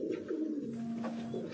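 A pigeon held in someone's hands gives soft repeated coos, a low throaty rolling call close by, with faint background murmurs.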